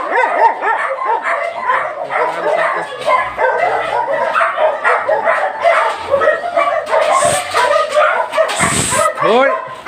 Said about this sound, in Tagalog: nag-iingay yung mga aso